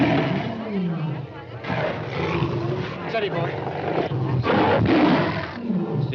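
Lion roars heard in a 1941 screwball comedy scene, a loud rumbling growl running under continuous talk from a man, who speaks over it throughout.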